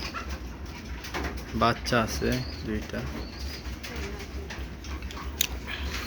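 Pigeons kept in a house loft coo in several rounded, repeated calls close by, with someone speaking briefly between them and a faint flutter of wings.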